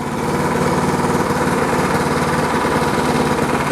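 An LO206 go-kart engine running in a garage, a loud steady chugging putter with a fast regular pulse, close up and continuous.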